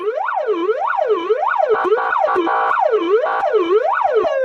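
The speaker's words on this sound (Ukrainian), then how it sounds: "Да, це вже швидка допомога." A loud ambulance siren wails in rapid rising-and-falling sweeps, close and continuous, with a few sharp clicks mixed in.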